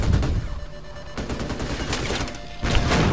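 Sustained automatic gunfire aimed at a helicopter in Call of Duty 4: Modern Warfare Remastered, a dense, continuous crackle of shots with louder bursts at the start and end, close and loud.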